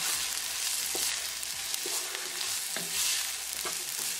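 Onions frying with ginger garlic paste for a fish masala are stirred in a pan, giving a steady close sizzle with repeated scraping strokes of the spoon and no talking.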